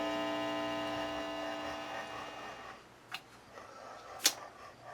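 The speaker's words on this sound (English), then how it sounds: "Little hum there, but that's to be expected." A 1946 Victor model 40B projector gives off a faint, steady electrical hum that fades out midway, followed by a few soft isolated clicks.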